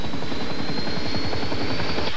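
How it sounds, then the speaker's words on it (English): A U.S. Air Force rescue helicopter from a NATO base dispatched to a snowmobile accident at a fissure, its rotor thumping in a steady, rapid rhythm with a constant engine whine, loud and close throughout. "along with the U.S. Air Force helicopter from the nearest NATO base"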